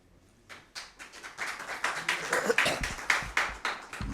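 Audience claps at a Christmas poetry gathering (mushaira) as a poet is welcomed, starting sparse and building into steady, rhythmic clapping close by, with no talk over it.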